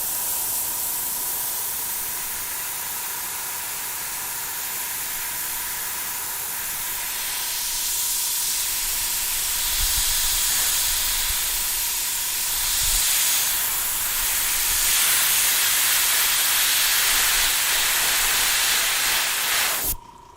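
An airbrush sprays paint in a long, steady hiss that swells and eases slightly over about twenty seconds and stops abruptly at the end. It is close and loud, with no talking.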